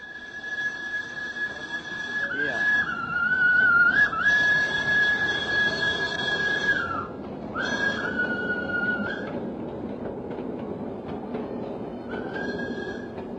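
A steam tram in Surabaya sounds its whistle in long, steady blasts, with short breaks and pitch dips between them, over a continuous rumbling, clattering running noise.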